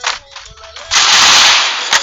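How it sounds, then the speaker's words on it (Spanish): Rapid bursts of automatic gunfire exchanged in the Free Fire video game, a few short cracks followed by a loud sustained volley, close and dominant with no talk over it. "Y se empiezan a cruzar los disparos."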